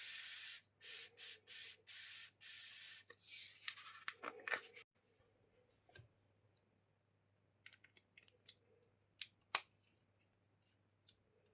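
Several short hissing bursts from an aerosol deodorant can being re-pressurized with air, then a longer spray, followed by quiet clicks and handling noises.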